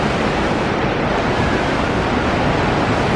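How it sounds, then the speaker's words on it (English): Ocean surf along the Dominican Republic coast, a loud, steady wash of broadband noise with heavy wind buffeting on the microphone and no voices. "So the waves have calmed down"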